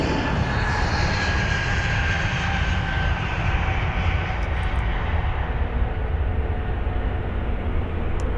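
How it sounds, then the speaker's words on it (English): A Delta Boeing 767-400ER airliner at London Heathrow produces a steady, loud jet engine roar with a broad rushing hiss and sustained tonal whine throughout, no voices present. "There's the Delta 767 just lining up now as well."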